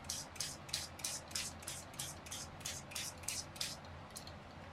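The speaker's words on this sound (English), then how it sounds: "So let's go ahead and spray it." IZINK dye spray in butterscotch color is pumped in a rapid, regular series of about a dozen short, hissing spritzes, fairly faint and close, with no talking.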